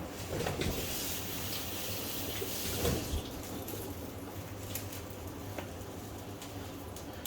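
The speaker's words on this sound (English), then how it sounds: "Now I'm going to rinse my hands" Tap water running while hands are rinsed during slow cooker meal prep, a steady faint hiss of flowing water with occasional louder splashes as hands move under the stream.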